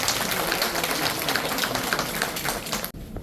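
Dense applause from an audience at a Dongi-myeon residents' general assembly in Okcheon, honouring the lecturer, Professor Kim. The clapping holds steady and fairly close, then cuts off abruptly near the end.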